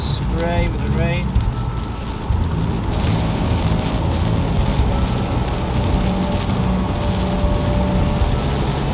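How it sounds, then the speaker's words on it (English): Heavy rain from Storm Babet pelting a moving car in southern Sweden, with constant road spray and wind rush, a steady dense wash of noise throughout. "really feel the wind and lots of spray with the rain"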